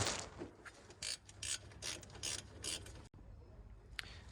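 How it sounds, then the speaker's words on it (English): A flexible-head ratchet clicks in quick bursts of rapid pawl ticks while turning bolts on a Vauxhall Corsa D VXR brake assembly, close and fairly quiet, with short pauses between strokes. "flexi head ratchet a few days ago, and I think it might be the best thing I've ever bought."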